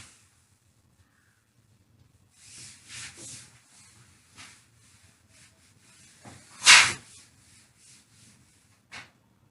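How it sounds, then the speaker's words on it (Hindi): A board being wiped clean of writing in a Class XII physics lesson, with scattered soft rubbing strokes, one sharper swipe near the end, and faint quiet gaps between them. "मैं इसको रब कर रहा हूं।"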